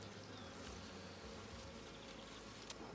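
Honeybees buzz around an open hive during a June apiary inspection in Ballachulish, a faint, continuous droning hum of many insects with a few louder passes close by.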